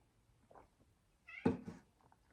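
An indoor house cat meows twice, a faint short mew followed by a louder, longer meow, with a quiet room around it.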